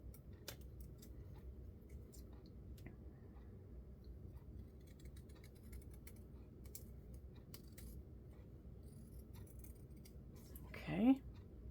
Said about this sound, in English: you can also trim any excess fabric out of way of that hole up there